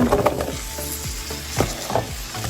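Diced potato and broccoli stalks tumble into a hot pot for broccoli cheddar soup, a loud rustling sizzle followed by a few spoon scrapes and stirs, close by.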